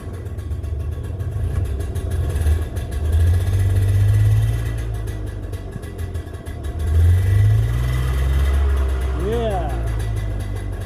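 Two-stroke engine running after starting inside a shop, a loud low rumble that rises and falls with revving, with people talking over it.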